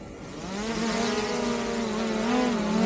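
DJI drone fitted with an LTE cellular module taking off, its propellers whining in a rising, wavering buzz that holds steady and close, gradually growing louder.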